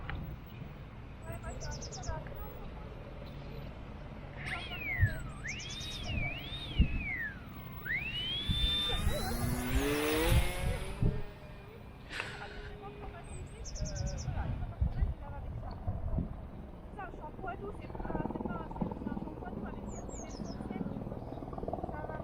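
Skylark G-NCUB, an XK A160 light aircraft, with its engine running at throttle, a sustained droning hum under people talking, mixed with shifting whistling tones and sharp chirps.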